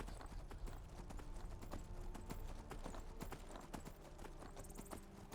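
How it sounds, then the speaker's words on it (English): A horse galloping in a video game, rapid rhythmic hoofbeats pounding steadily and close for several seconds, with no speech over it. "Watch how long this horse can run."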